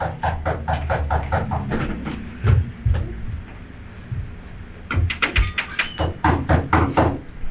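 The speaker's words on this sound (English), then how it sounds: "Whence is that knocking?" Knocks on a door during a stage performance of a Shakespeare play, heard as two rapid clusters of sharp, fairly loud raps with a quieter stretch between them.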